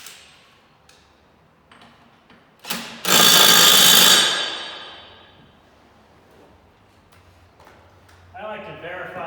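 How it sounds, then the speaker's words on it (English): An impact gun tightens new blades on a John Deere WG36A walk-behind mower during spring service, a loud burst of whirring and hammering lasting about a second, with quieter clicks and taps around it. "I like to verify that that gun is actually tightening the blades."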